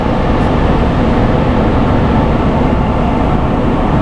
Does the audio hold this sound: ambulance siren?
no